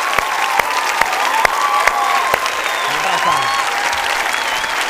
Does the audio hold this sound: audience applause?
yes